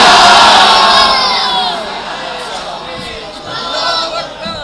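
A large gathering at a religious speech raises loud chanted slogans and cheers, voices swelling together at first, fading, then rising again in a second burst of shouting.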